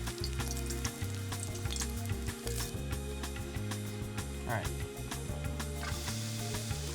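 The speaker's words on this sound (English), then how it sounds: "we got some shallots cooking in the rendered pancetta / bacon fat" Shallots frying in rendered pancetta bacon fat in a pan, a soft steady sizzle with occasional clicks and taps, faint beneath a low humming tonal background.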